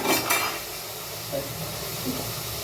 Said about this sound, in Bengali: রিঠা মাছ ভাজতে গেলে দেখো কীভাবে ফোটে